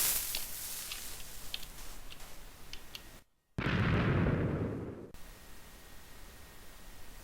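TNT explodes while blasting a tunnel in a video game: a brief near-silent drop is followed by a loud, rumbling blast that lasts over a second, then fades back into steady background hiss.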